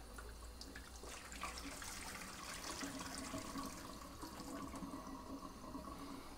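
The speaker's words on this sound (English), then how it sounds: "there's a hole right here, so I'm going to pour this out. This is how you drain it." Water and sediment pouring steadily out of the drain hole of a Gryphon C-40 diamond-blade bandsaw's water container, a continuous splashing gush with no talk.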